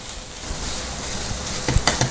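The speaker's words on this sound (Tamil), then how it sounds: "ஒரு 2 நிமிஷம் வரைக்கும் இதே மாதிரி சிம்மில் வச்சுட்டு நல்லா மிக்ஸ் பண்ணிகிட்டே இருங்க." A bread burfi mixture frying and being stirred in a pan on a low flame, giving a close, steady sizzle with light scraping of the spoon and a few louder clicks near the end.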